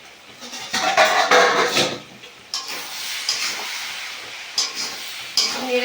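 Steam hisses from a pot of boiling potatoes as the lid is lifted, a broad rushing hiss that swells and fades in bursts with faint clatter, no talking.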